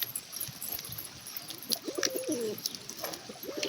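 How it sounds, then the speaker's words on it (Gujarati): Pigeons coo in a garden yard while people try to catch them, low rolling calls surfacing in several short bursts over faint outdoor background noise and high chirps. "જો પકડ તો કબૂતર પકડ લા."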